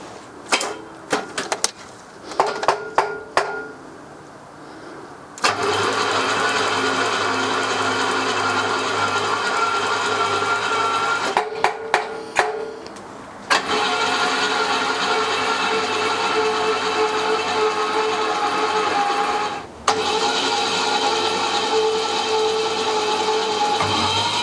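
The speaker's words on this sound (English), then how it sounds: "first time spinning the engine over in 30 years" A 1979 BMW engine, unused for 30 years, cranks over steadily in long whirring stretches, starting and stopping several times, with clicks and clatter between runs.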